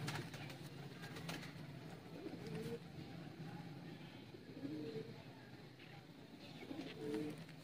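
Soft, low pigeon coos repeat every second or so on a breeder's rooftop loft, under a faint, steady background rumble.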